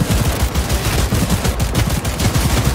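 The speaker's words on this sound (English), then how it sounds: "You can just shoot people around corners with this." Rapid, dense gunshots from a smart pistol in Cyberpunk 2077, a continuous loud rattle of closely spaced shots throughout, with no speech.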